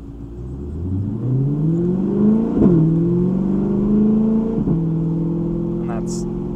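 A Chevrolet C8 Corvette with 2M Fab headers, cats and cat-back exhaust at partial throttle in track mode, heard from inside the cabin as a deep, steady droning hum that climbs and holds, shifting pitch twice.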